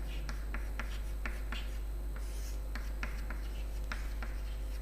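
A pen or pencil writes on paper in a quiet classroom, a run of faint, quick scratching strokes over a steady low hum.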